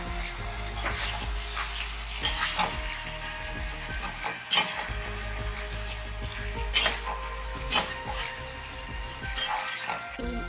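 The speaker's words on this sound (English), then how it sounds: "Mix everything well so that the salt and turmeric powder mix well with the potatoes and all the potatoes are coated with oil" Sliced potatoes coated with salt, turmeric powder and oil sizzle steadily in a pan while a utensil stirs them, with several sharp scraping clinks against the metal rising above the constant frying hiss.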